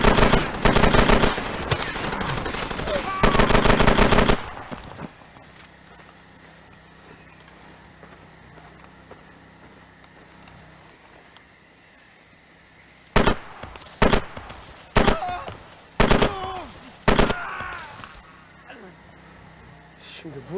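Enemy gunfire in Far Cry 2 comes as loud bursts of automatic shots, then quiet, then a series of separate sharp volleys, with someone talking at times.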